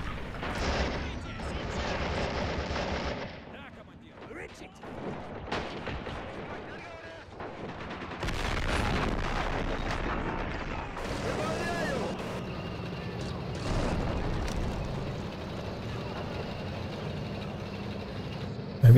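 Mortar fire in the Men of War video game: repeated booming shots and bursts scattered through a busy battle soundscape, with engine rumble and voices talking over it.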